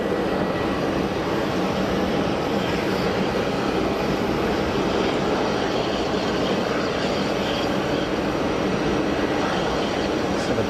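Canadair-built Bombardier regional jet in orange and white at Geneva Airport, its broad steady engine roar loud and close, filling the whole stretch without a break.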